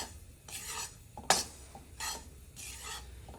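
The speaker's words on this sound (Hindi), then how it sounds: "तो मैं इसके अंदर अब एक कटोरी बेसन की डाल दूंगी। इसको भी साथ में भून लेंगे," Gram flour and wheat flour being stirred and roasted in a little ghee for panjiri, with a spoon scraping rhythmically against the pan in repeated rasping strokes and one sharper clink, close and fairly quiet.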